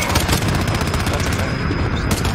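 Dense rapid gunfire from Call of Duty Modern Warfare fills the whole short stretch, a loud continuous burst of shots with faint voices underneath.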